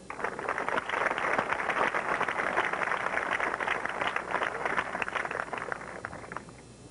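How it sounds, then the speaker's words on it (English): A crowd at the 1998 Tenafly High School graduation ceremony applauds the newly elected Board of Education President, sustained clapping at steady loudness for about seven seconds before tapering off near the end. "Please give a round of applause for Bobby Frankfurt."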